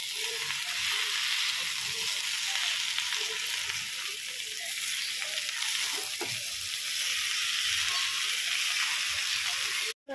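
A Katla fish head fries and is stirred in a pan, a continuous close hiss of sizzling oil running the whole time with faint scraping and a few soft knocks underneath, ending abruptly.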